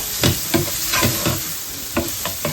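Chopped onion stirred in a hot pan, sizzling steadily with about six scraping stir strokes at a roughly even rhythm, close and moderately loud, with no talking.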